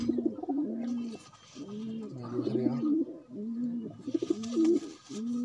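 Striped pigeons cooing repeatedly, close and clear, with rhythmic low throaty coos in overlapping phrases and faint chirps and rustling in the background.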